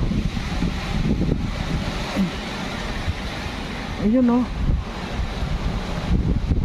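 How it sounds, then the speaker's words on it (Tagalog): Strong wind buffets the microphone in heavy gusts, with a person speaking intermittently over it. "Lakas ng hangin mga kalangga."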